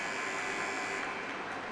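An ice hockey arena buzzer sounds at the end of a period, a steady droning tone held throughout, blended into loud, even crowd noise.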